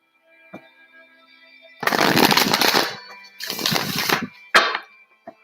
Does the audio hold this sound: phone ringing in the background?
no